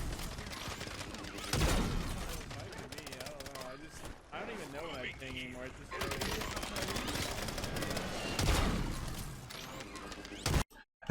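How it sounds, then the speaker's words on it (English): Gunfire in the Call of Duty Warzone video game, a dense burst of shots and impacts under continuous game audio with a voice talking over it, two louder crack-like hits standing out. "Now we did just get shot from that direction."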